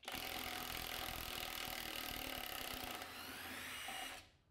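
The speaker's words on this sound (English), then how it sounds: "Reverse mode will keep going if there's tension, but as soon as there's no tension, it stops." A Skil 1/2 inch impact wrench runs in reverse, a loud, steady buzzing hammer-and-motor whir held for about four seconds before it cuts off abruptly.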